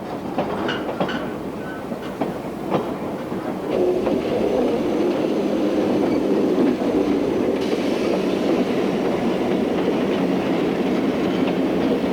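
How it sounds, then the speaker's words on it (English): A museum train rolls steadily along the tracks with a continuous rumbling clatter, growing slightly louder and fuller partway through, with no voices. "Young and old alike enjoy the colorful trains as they journey around the museum."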